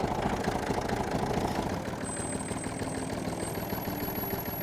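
A vehicle engine idles out of gear with a steady mid-low rumble and faint knocking rhythm, close by and continuous, slightly quieter after the first couple of seconds.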